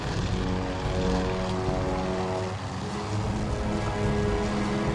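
Propeller warplanes in the Task Force Admiral carrier battle video game drone overhead in a loud, continuous engine roar with layered throbbing tones and no pauses.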